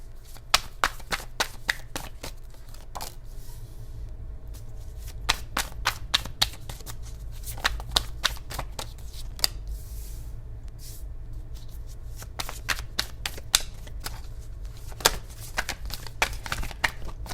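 Tarot cards shuffled by hand during a Sagittarius reading, giving a quick, irregular run of soft snapping and riffling clicks close by, with no talking and a low steady hum underneath.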